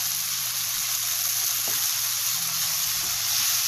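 Grated coconut and tomato sizzling and being stirred in a hot pan for a fish chammanthi, a continuous close hiss with faint scrapes, no voices.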